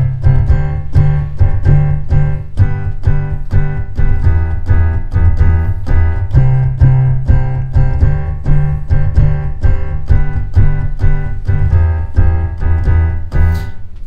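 A keyboard plays a basic rhythm with both hands, steady chords on every beat over a repeating low bass line, loud and close with no voices.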